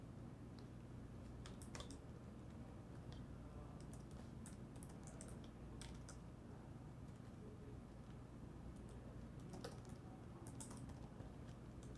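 Someone types account details on a computer keyboard, a quiet, steady run of clicking keystrokes with uneven rhythm over a low background hum, with no speech.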